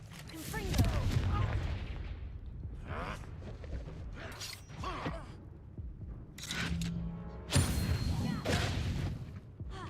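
Confringo fire spell blasts in Hogwarts Legacy combat: several sharp bursts punctuate a busy stretch of creaking and clattering battle noise, with distinct louder hits near the middle and toward the end.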